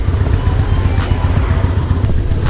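A chopper motorcycle's loud exhaust rumbles steadily and close by, a dense continuous roar on a ride out to Burg Dringenberg.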